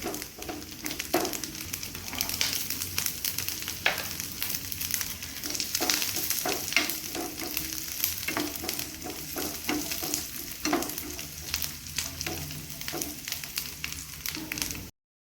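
Coconut pieces and cashews frying in hot oil or ghee for jackfruit pradhaman, a steady close sizzle with frequent stirring scrapes throughout, no talk.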